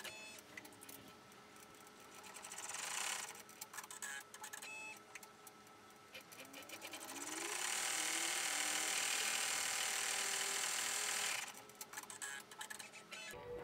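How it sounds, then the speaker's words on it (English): An embroidery machine sews the final stitch of an in-the-hoop 3D pinwheel snap tab, a quiet ticking needle rhythm that swells into a steadier, louder mechanical whir for several seconds and then eases back. "And we're going to stitch the final stitch."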